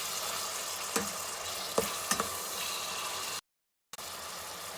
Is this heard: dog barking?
no